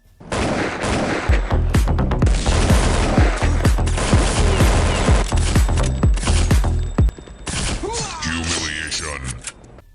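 Rapid gunfire from M4 and AK rifles and a Deagle pistol in the Counter-Strike: Condition Zero video game, with dense bursts of sharp shots and repeated reports over about seven seconds, then scattered shots after a brief pause.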